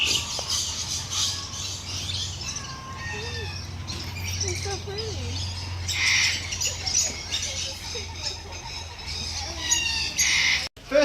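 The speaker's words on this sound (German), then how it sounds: "Oh, und hier kommt ein kleiner Papagei vorbei." A small parrot passes by in an Australian waterbird enclosure in Cairns, giving repeated sharp squawks and chirps at moderate distance over a low background hum, with voices audible at times.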